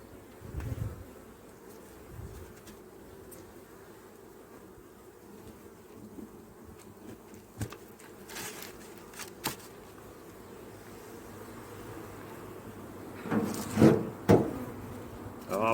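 Honey bees from a swarm buzzing at an apiary, a soft continuous hum with occasional closer fly-bys, scattered knocks and handling sounds growing louder toward the end.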